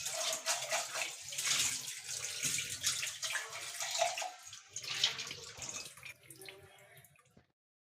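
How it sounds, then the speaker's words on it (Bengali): Polao rice being washed by hand in a bowl of water, with splashing, sloshing and trickling in uneven bursts close by, fading out to silence at the end. "এখন পোলাওর চালটা ধুয়ে নিচ্ছি।"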